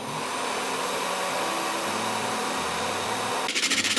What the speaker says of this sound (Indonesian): Nyalakan pengering rambut dan arahkan aliran udara ke kaleng tengah.